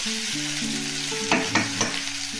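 Spices being stirred into cauliflower and potatoes frying in a pan: a steady sizzle joined by a few sharp scraping knocks of the spoon, close and fairly loud with no talking.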